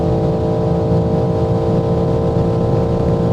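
A BMW M4 G82 with 510 hp accelerates hard on the Autobahn above 270 km/h, producing a loud, steady engine drone mixed with heavy wind and road roar that holds unbroken throughout.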